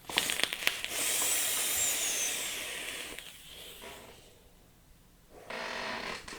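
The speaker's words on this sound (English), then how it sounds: "Let me go ahead and take another vape on this real quick." Draw on a Mephisto V2 clone rebuildable atomizer from IVOGO, a close airy hiss with crackling coil sizzle lasting about two seconds, fading, then a second shorter hissing pull near the end.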